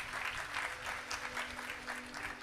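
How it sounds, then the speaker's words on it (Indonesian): Church congregation claps during a worship service, giving a soft, fairly distant patter of applause that swells and fades, with a low steady hum beneath it. "Tepuk tangan bagi Tuhan Yesus"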